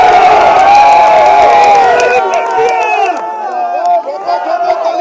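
A large crowd at an outdoor political rally in Shivpuri cheers and shouts loudly, with claps and whoops rising over a dense roar that thins toward the end as voices call out.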